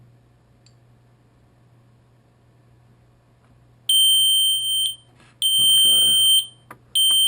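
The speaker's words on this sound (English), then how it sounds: "turn it off quick because the buzzer is very loud" An Audi instrument cluster for a TT, A4 or A6 Allroad sounds its warning buzzer on the bench. Two loud, sustained electronic tones stand out against near silence, followed by a short final blip, and a voice speaks briefly.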